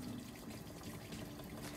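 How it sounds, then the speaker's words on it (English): An RV washing machine spins out a load of clothes, giving a faint, steady whoosh of draining water and motor noise with no voices. "it is spinning out the clothes"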